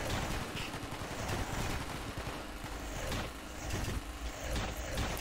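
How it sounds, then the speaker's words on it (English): Gunfire in the game Cataclysm DDA, a dense, continuous roar of rapid shots and rumbling blasts filling the whole stretch at high loudness, with no pauses between bursts. "Gunfire is helping cover the noise of the jackhammer."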